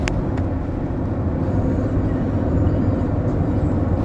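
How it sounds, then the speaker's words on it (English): Steady, dense road rumble fills the inside of a moving car, a constant close drone with no breaks. "I'm in a car."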